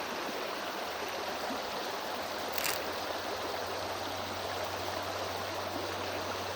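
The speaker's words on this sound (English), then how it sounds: "So we're gonna have a lot of water flow." Water rushing steadily through a beaver dam, a continuous broad outdoor gush, close and even throughout with a brief splash partway.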